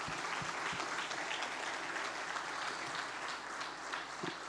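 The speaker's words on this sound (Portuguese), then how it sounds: "Diga amém e aplauda bem forte a palavra de Deus." A Sunday church congregation gives sustained, even applause, a steady wash of many hands clapping throughout with a few louder individual claps standing out.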